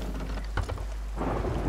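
Thunderstorm with rain in the pirate video game Sea of Thieves: a steady hiss of heavy rain with a sharp thunder crack and a rolling rumble building toward the end.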